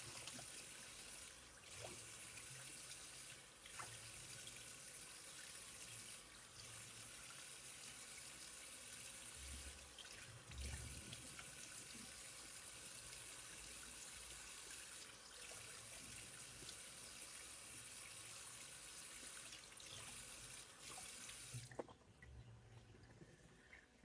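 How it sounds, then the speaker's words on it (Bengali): Water running at a sink while a face is washed of makeup and sunblock, a faint steady trickle with soft splashes and squishy hand sounds, stopping just before the end. "এখন আমি পুরোটা ধুয়ে ফেলবো।"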